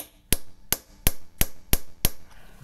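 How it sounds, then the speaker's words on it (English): Steel chisel struck by a hammer against a wheel lock lug nut, six sharp metallic blows at an even, quick rhythm, loud and close with no talking. "you can see with my steel chisel, I've put a little notch in there"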